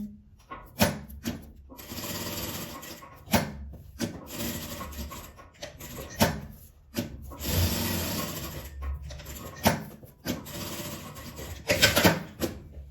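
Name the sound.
sewing machine stitching around a fabric pad pouch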